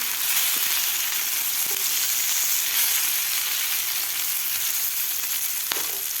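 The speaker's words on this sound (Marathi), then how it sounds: "मिडियम गॅसवर आपल्याला व्यवस्थित हे भेंडी फ्राय करून घ्यायची आहे" Stuffed okra frying in a pan over a medium gas flame, giving a steady, loud, continuous sizzle that fills the whole stretch with no talking.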